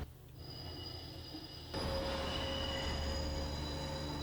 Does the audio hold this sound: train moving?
yes